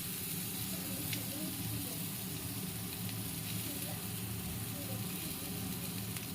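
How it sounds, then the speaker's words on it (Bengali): Eggplant slices sizzling in hot oil in a home kitchen, a steady broadband frying hiss that stays loud and even throughout with faint low background noise beneath. "বেগুনটা এখন বসিয়ে দিব সর তেল ছিটকে কিন্তু গায়ে পড়বে"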